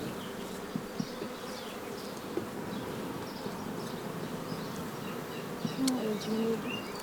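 Honeybees hum in a steady, dense drone around a honeycomb frame filling with nectar and honey, the close buzzing constant throughout with faint passing bee whines and a few small knocks.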